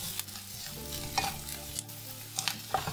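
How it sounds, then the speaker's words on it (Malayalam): Ground ginger paste sautéing in a hot pan, a soft steady sizzle broken by light scrapes and taps of a spoon as it is stirred. "അതൊന്ന് വഴറ്റി കൊടുക്കാം."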